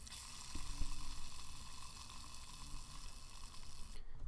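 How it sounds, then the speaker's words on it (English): A faulty CPU water cooler with air trapped in its loop runs alone, giving a steady gurgling, bubbling liquid churn with a constant pump-like whir throughout. "I'll show you a clip now of what the water cooler sounds like."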